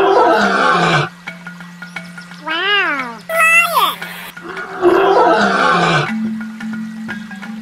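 Recorded lion roar playing from a pop-up sea creature toy, a loud electronic roar burst amid other toy animal calls and music, with an adult talking in between.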